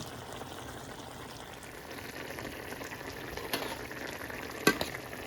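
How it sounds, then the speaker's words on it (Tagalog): Steady bubbling and sizzling of a pot of pork boiling on a stove, continuous and fairly quiet, with a couple of small clinks near the end. "So, ayan, kumukulo na."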